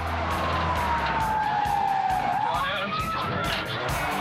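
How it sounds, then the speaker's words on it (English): A stolen car skids and spins out on a hard right turn at high speed during a police chase, with a long tire squeal sliding and bending in pitch over steady loud engine and road noise. "The suspect spins out trying to take a hard right."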